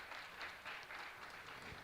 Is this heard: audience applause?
yes